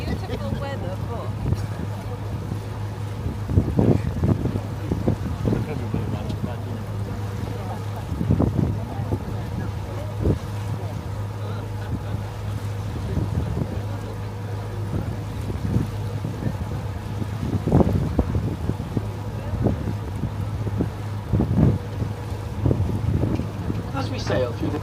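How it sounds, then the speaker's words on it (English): Cruise boat under way on Lake Windermere, with steady engine drone and wind buffeting the microphone across the whole stretch, plus occasional louder gusts; a person talks over it at times. "as we sail through the bay again, you can see the village of Bo'ness laid out along the shoreline"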